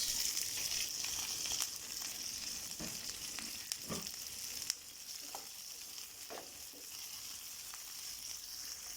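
Mustard oil sizzles steadily as garlic and green chilies fry for a tadka, with a continuous close hiss and a few soft clicks of stirring and utensil taps, no one speaking.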